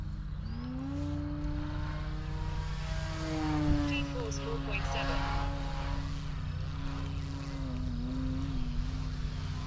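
An E-flite Turbo Timber Evolution RC plane hovers overhead, its electric motor giving a steady, sustained whine that wavers slightly in pitch throughout, moderately distant, with a person talking at times over it.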